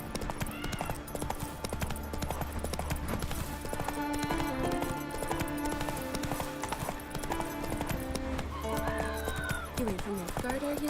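Hooves of a horse trotting in The Witcher 3: Wild Hunt, steady clip-clop rhythm running under a dense game soundtrack with music throughout.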